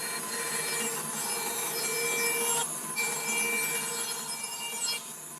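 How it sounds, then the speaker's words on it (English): A bandsaw cuts through wood close to marked lines, giving a steady, close, continuous rasping whine with brief dips in intensity and no talking. "I'm going to take it over to the bandsaw where I can cut this close to the lines."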